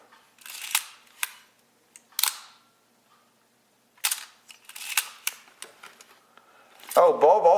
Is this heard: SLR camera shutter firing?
yes